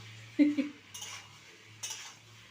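Jackfruit and potato pieces stirred in a cooking pan, a few faint clinks and scrapes of a utensil against the metal at irregular intervals over a quiet background hum.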